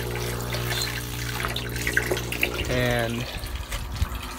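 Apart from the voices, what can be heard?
aquaponics aerator and pump oxygenating the water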